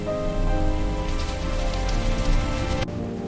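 Heavy rain pours down steadily on surfaces in an animated scene of a stray rabbit caught outdoors, a dense continuous hiss under soft music, cutting off sharply near the end.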